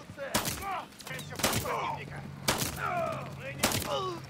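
Shotgun blasts in the Modern Warfare 3 campaign, four loud broadband bangs roughly a second apart, with game chatter and a low hum underneath.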